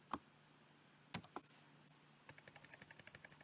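Keystrokes on a computer keyboard, a few isolated clicks early on and then a quick, steady run of light taps near the end, fairly quiet with no talking.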